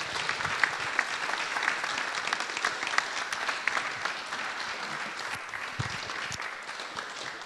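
Audience applauding the speakers at the end of a conference on prisons, sustained dense clapping from a full room, steady throughout with a few louder individual claps standing out.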